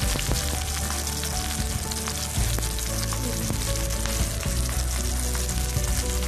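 Onion, potato and green chillies fry in hot oil in a pan, giving a steady, dense sizzle and crackle throughout with no voices.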